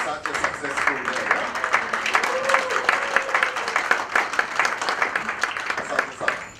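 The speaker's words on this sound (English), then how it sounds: "I think we deserve a round of applause for having such a successful day." Conference audience applauding at the close of a day at an international conference on embedded and mobile technology, dense steady clapping sustained throughout with voices mixed in.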